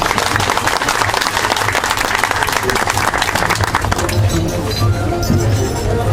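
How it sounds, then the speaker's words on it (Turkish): A crowd at a local holiday gathering gives loud, dense applause throughout, close and continuous, with some voices mixed in under the clapping. "kuvvetli bir alkış istiyorum sizlerden"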